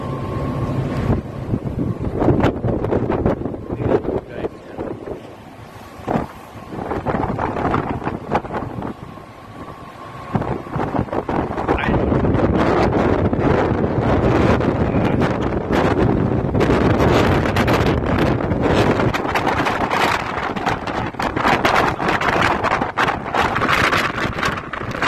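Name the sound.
strong wind at sea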